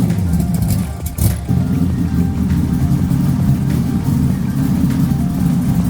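A V10-swapped Lincoln Continental idles on dyno rollers, a loud, steady low engine rumble close by, with a brief clunk and dip just after one second.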